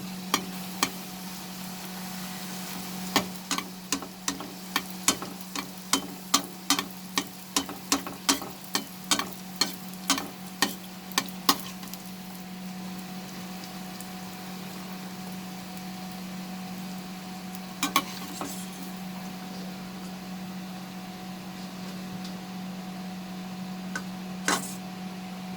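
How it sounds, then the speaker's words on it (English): Puris fry in hot oil for a halwa puri recipe, a low steady sizzle under a quick run of sharp ticks and taps near the start, with a few more scattered clicks later. "We will drop the puris and we will fry them now."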